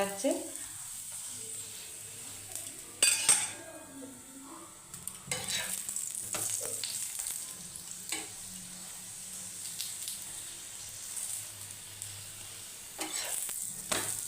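Carrot paratha fries in oil on a pan, a steady low sizzle running throughout with a few brief clatters and scrapes as it is pressed down.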